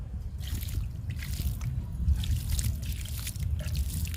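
Water trickles and splashes steadily onto the soil and leaves of potted plants, a continuous close pour with faint low background hum throughout.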